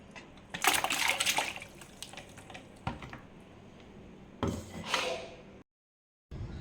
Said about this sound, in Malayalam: നമുക്കിപ്പോൾ ഇത് ഒരു ബക്കറ്റിലോട്ട് ഒഴിക്കാം